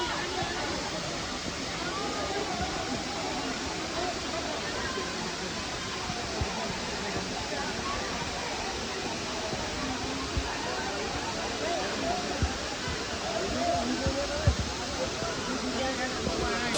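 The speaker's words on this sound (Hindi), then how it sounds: "ये देखो बी फॉल वाटरफॉल का खूबसूरत नज़ारा, काफ़ी ऊंचाई से गिर रहा है" Bee Falls waterfall in Pachmarhi dropping from a great height, a steady, dense roar of falling water that holds constant and fills the whole stretch, with faint murmur of people in the background.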